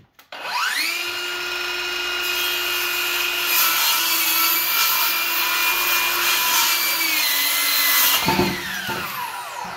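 A power saw cuts through a wooden board for scaffolding while insulation work goes on, a steady loud whine running for about seven seconds before winding down, followed by a brief clatter.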